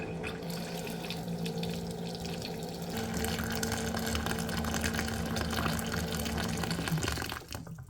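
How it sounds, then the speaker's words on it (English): A steady stream of boiling water pours continuously from a hot pot into a container, a constant rushing splash that cuts off abruptly near the end. "we're gonna add 1 cup of boiling hot water"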